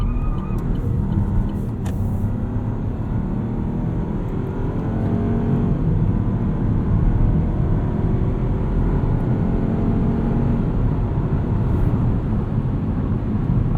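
A 2021 Chevrolet Trailblazer LT turbo in sport all-wheel-drive mode accelerates, its engine note rising steadily under heavy road and tire rumble heard from inside the cabin throughout.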